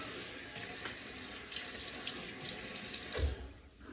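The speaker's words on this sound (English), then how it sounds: "Just wetting down my face here." Tap water running steadily into a sink while someone splashes their face, a close, even rush of flowing water with a brief splash near the end.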